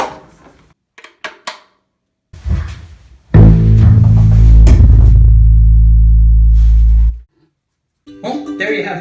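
Amplified bass ukulele plugged in, giving a loud, deep sustained low note that rings steadily for about four seconds after a few brief plucks and taps, then cuts off.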